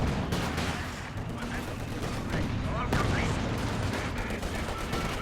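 A Jagdtiger tank destroyer in Company of Heroes 2 fires on a battlefield crowded with tank, gun and machine-gun fire. Bursts of shots and booms go off again and again at moderate loudness, with a commentator's voice over them.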